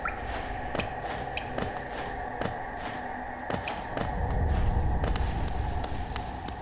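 Water in the Hollow Knight video game fizzes and hisses as a constant wash, punctuated by repeated soft squishy taps like footsteps, with a low rumble swelling near the end; no one speaks.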